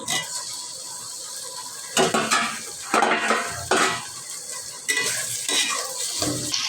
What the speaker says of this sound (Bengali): আমি টমেটোটা দিয়ে দিলাম